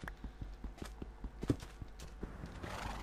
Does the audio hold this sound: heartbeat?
no